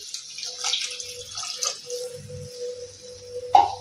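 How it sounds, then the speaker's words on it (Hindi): Water poured into a pan of egg curry, a soft trickling and splashing at close range with a brief louder slosh near the end. "आब एहिमे 1 कप पानि दऽ देबै"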